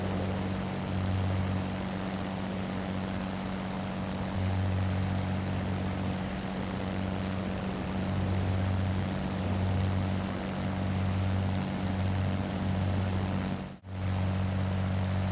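Spitfire propeller engine in Microsoft Flight Simulator 2020, flying over New Forest airfields, a steady loud droning hum with low pulsing throb, continuous and alone apart from one brief dropout near the end.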